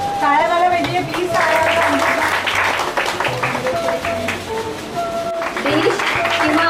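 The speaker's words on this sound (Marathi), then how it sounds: "टाळ्या झाल्या पाहिजे प्लीज।" An audience at a prize-giving event claps in a broad, steady patter that swells for a few seconds in the middle, with a voice and tonal music running beneath it.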